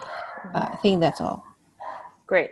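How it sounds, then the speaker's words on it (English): A few brief dog barks sound in the background during an online meeting, partly under a person's speech and then in a short gap between words. "Sorry about the dogs."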